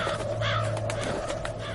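Several crows caw in a flurry over a steady low drone, a swarm of birds swooping down from the sky, calls overlapping at moderate loudness.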